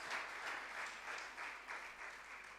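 Crowd of students and guests clapping at a school debate competition, a continuous wash of applause with slight swells in intensity, heard alone without any voices.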